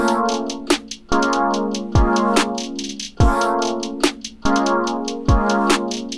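Stacked, tense synth chords swell and release in repeating phrases while punchy drum hits mark a steady beat. The music is loud and close, with no voices.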